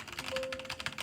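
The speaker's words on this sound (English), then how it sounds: "You just feel like the switches just are very grindy and really hard to type on." Unlubed brown-switch mechanical keyboard keys are typed on close up, a quick run of muted, slightly scratchy clacks.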